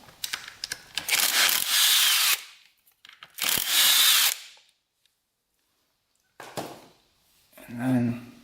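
A power drill or impact driver spins out two 8mm bolts on a Kawasaki dirt bike, two long whirring bursts separated by a pause, then a shorter burst; a voice talks briefly near the end.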